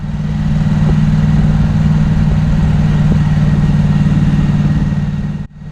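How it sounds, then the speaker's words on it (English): A Triumph Street Twin motorcycle engine drones loud and steady while riding up the Struggle toward Hardknott Pass in the Lake District, a constant low throb that cuts out abruptly near the end. "thankfully that makes no difference to the engine noise at all"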